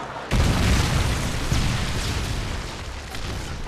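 A Predator missile strike in Modern Warfare 3 detonates with a sudden heavy boom, then a sustained rumbling roar of debris and blast noise that stays loud for several seconds with no speech.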